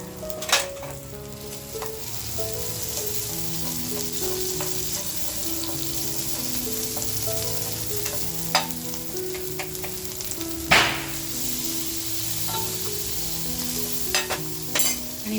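Pav buns heat in butter on a pan used for fish pav bhaji, giving a close, continuous soft sizzle with occasional sharp clicks and scrapes.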